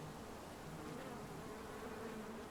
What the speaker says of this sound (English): Bees are fine. They're doing bee stuff over here.